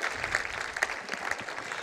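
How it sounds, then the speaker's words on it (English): A short burst of audience applause at a banquet, many hands clapping in a dense, continuous patter that stays steady and fairly loud for the whole moment. "let's have another round of applause for Javier"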